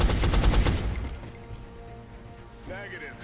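Rapid bursts of gunfire in the turn-based strategy game XCOM: Enemy Unknown, a dense volley of loud cracking shots at first that fades into a quieter tail with a brief electronic tone near the end.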